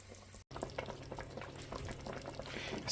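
Oxtails simmer in water in a cooking pot, giving a steady low bubbling and soft sizzling that runs close and even throughout, broken only by a brief silent gap near the start.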